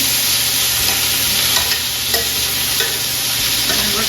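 Chicken fajita strips sizzle loudly in plenty of hot oil, a dense continuous crackling hiss close up with scraping stirs and a few sharper pops over a few seconds.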